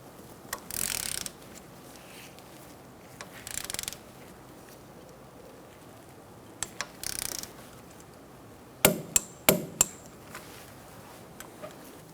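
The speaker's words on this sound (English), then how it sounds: "We're going to torque our bolt to 21 foot-pounds." Torque wrench clicking and ratcheting as a brake caliper bolt is tightened to 21 foot-pounds on a 2014-2019 Kia Soul, with several sharp clicks in quick succession after earlier scattered metallic bursts.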